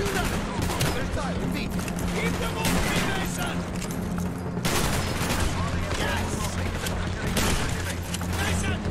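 Heavy gunfire in Call of Duty: Black Ops, with loud bursts of rapid shots and booming blasts layered over a low rumble, while a voice talks over the action.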